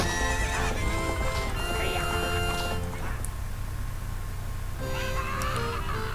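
A horse whinnies loudly with rising and falling calls in The Legend of Zelda: Ocarina of Time, followed by a second neigh near the end, over a steady synthetic backdrop.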